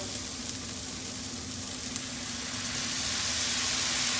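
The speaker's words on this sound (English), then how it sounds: "we're gonna deglaze with a little Pinot Grigio" A pan of chicken Alfredo sizzles hard after a splash of Pinot Grigio goes in. The hiss is loud, steady and unbroken, swelling slightly toward the end, with no talking.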